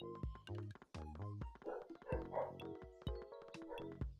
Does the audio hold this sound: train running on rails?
no